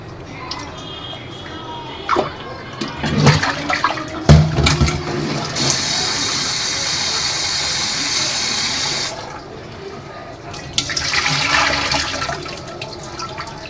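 Leafy greens being rinsed in water in a home kitchen: splashing and sloshing, then a steady rush of running tap water for several seconds, a pause, and more splashing, close and fairly loud with no talk.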